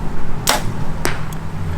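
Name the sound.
arrow shot from PSE Evolve 33DS bow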